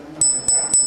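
A jade pendant is tapped three times in a quick, even rhythm, each tap giving a bright, clear bell-like ring that lingers briefly, close by and with no talking.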